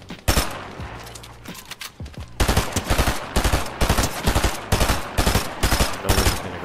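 Gunshots in a competitive shooter game, loud sharp reports firing in irregular bursts and quick rapid volleys, close and punchy throughout.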